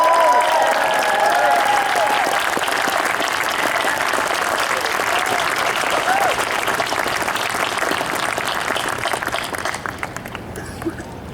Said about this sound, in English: I would like to begin by giving them, the class of 2014, a resounding round of applause.